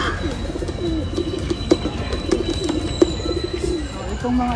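Low, soft Nicobar pigeon coos repeat steadily in the background amid a busy, noisy outdoor aviary park in Zamboanga City, with a few faint clicks and distant sounds.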